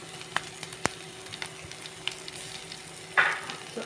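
Garlic roasting in a pan for a Goan dish, giving a soft, faint sizzle with occasional stirring clicks and a louder scrape near the end, with no talk.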